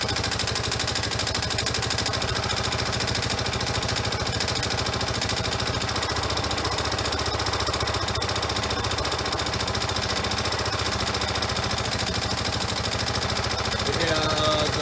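A 1994 Yamaha Moto-4 ATV engine runs steadily with its exhaust blown out at the joint where the muffler bolts to the pipe, giving a loud, continuous, rapid chattering rattle throughout, faint voices in the background.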